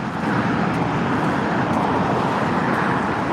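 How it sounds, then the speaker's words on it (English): Steady road traffic rumbles in the background, a dense, even wash of passing car noise with no distinct individual vehicles standing out. "That's why you hear the traffic in the background so loud"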